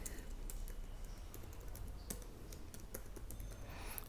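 Code typed on a computer keyboard in a Vue.js programming session: a run of quick, close key clicks in an uneven rhythm, with a few sharper taps standing out above a steady low background hum.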